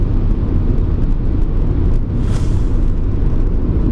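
A 2018 Citroën Aircross Shine cruises on a highway at 100–110 km/h, producing a steady, loud cabin drone of road and engine rumble with no talking.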